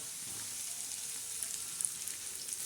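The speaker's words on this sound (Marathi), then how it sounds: "आता हा कांदा चांगला नरम करायचा म्हणजे चांगला तडका द्यायचा" Onion softening in hot oil for a tadka with dried wheat kurdai crumble, a faint continuous sizzle with light crackles and pops scattered through it.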